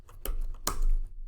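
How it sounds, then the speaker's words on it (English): Computer keyboard typing, two quick close key clacks in a short, quiet pause. "So here we're going to type in animations,"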